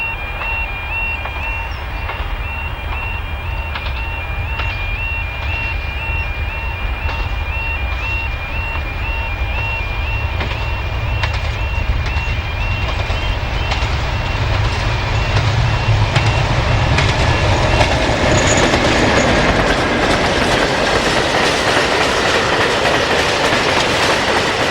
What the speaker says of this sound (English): The same pair heading back to Boston at Barkston